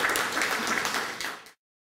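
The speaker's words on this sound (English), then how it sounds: "you can give a round of applause to them" An audience applauding at a community development launch event, a short burst of clapping that carries on for about a second and a half, then cuts off into silence.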